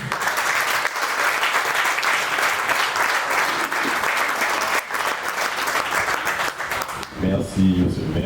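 Loud, sustained applause from a crowd at a French municipal team-building day, filling about seven seconds before fading, then a voice begins speaking near the end.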